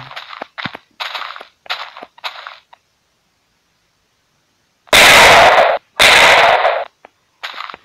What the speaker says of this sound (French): ça c'est une petite grenade. Voilà, ils font juste ça. Puis là les grosses grenades.